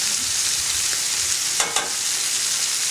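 Close, loud, continuous sizzling from chicken searing in a hot pan for a Vidalia onion braise, with a couple of brief stirring scrapes partway through and no talking.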